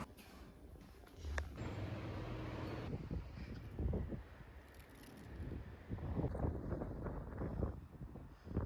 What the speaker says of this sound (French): Je sais pas si vous m'entendez, mais il y a tellement de vent, c'est une folie